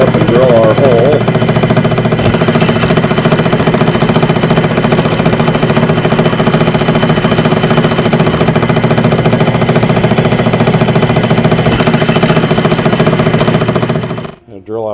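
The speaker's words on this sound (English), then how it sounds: "Drill out these three holes." A drill bores holes in an aluminum part, with oil added as lubricant, giving a loud, steady machine whine and rumble that runs almost the whole time before cutting off near the end.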